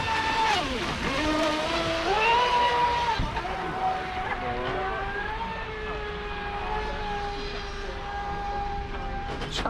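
A Pro Boat SonicWake 6s RC boat races across water, its electric motor whining at a steady pitch that rises and falls as the boat speeds and turns. Water rushes around it, and faint voices sit in the background.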